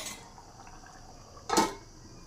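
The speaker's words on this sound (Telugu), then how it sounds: "మూత పెట్టుకుందాం" A single metallic clank as a lid settles onto a pot of simmering curry, short and close, against a quiet kitchen background.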